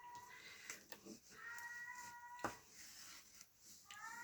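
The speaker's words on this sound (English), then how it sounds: "I apologize if you can hear my cat in the background." An elderly cat with dementia cries around the house, a few drawn-out meows rising in pitch through a faint, noisy room during crafting, quiet and in the background.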